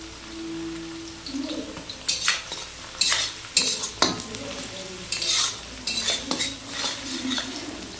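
Crushed garlic added to lightly fried onions sizzles in a pan while a utensil stirs and scrapes it in irregular bursts, with clinks of metal on the pan up close.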